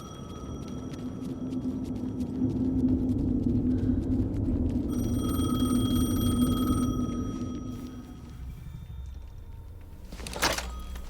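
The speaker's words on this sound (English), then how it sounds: "The phone again." A telephone rings in the video game Alan Wake 2, its repeated electronic ring sitting over a low droning hum and rumble, followed near the end by a sharp thunk.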